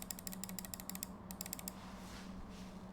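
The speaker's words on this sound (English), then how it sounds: "This is how loud the mouse clicks are at keyboard level." A computer mouse clicks at keyboard level beside a keyboard with GMK Hanok keycaps, a quick run of sharp, crisp ticks in an irregular rhythm, close and fairly quiet, then trailing off into faint background noise.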